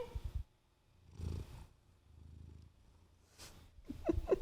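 A cat purrs in low, rumbling bursts close to the microphone, with soft breathy pauses and some rustling near the end.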